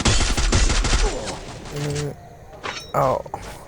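Gunfire in a first-person shooter game, aimed as a headshot on a scout, comes as a rapid burst of loud shots at the start, then mechanical clicks and another short burst, with no voices.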